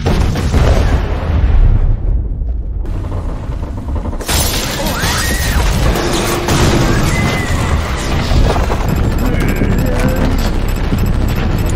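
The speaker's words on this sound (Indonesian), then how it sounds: "Dengan gilanya Q meledakkan gedung sebelah yang akhirnya menimpa gedung SNC." Building explosion in a Korean drama: a loud, dense broadband roar and crash rumbling on for nearly twelve seconds, briefly dropping before a renewed blast and collapse with debris, no speech.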